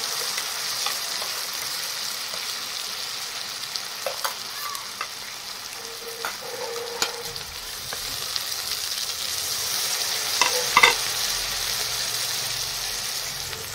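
Gentle, steady sizzling of spices with salt and turmeric frying with onions in a pan for egg masala, with a few scraping stirs and light clinks, alone without talk.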